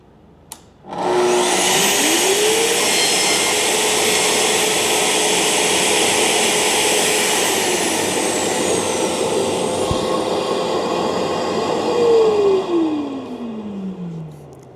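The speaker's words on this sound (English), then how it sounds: "I'm going to do my initial test cut holding the camera still" A Festool track saw spins up with a rising whine, cuts through the plastic splinter guard strip of its guide rail in a loud steady high drone, then winds down with a falling pitch.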